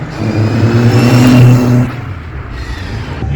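Modified 1994 Rover Mini with straight-cut gears revving hard, a loud close high-pitched whining engine that peaks then drops away to a lower idle hum.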